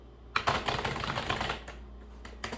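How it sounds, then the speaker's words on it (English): Rapid typing on a loud computer keyboard, close and crisp: a dense burst of clacking keystrokes for about a second, then a pause and a few scattered single key taps, with no talking. "I have one of the louder keyboards."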